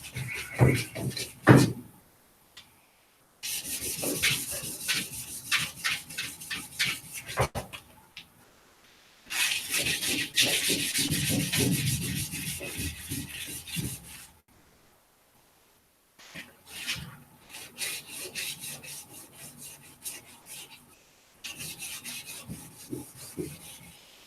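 Hand sanding out scratches in Bondo body filler with fine sandpaper, bursts of close, rhythmic rasping strokes separated by brief pauses.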